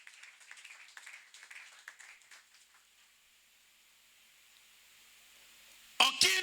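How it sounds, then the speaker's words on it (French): A church congregation at a Sunday service claps for God, scattered applause that thins out and fades within a few seconds, followed by quiet and then an abrupt loud burst at the very end. "tobeteli nzambe maboko makasi"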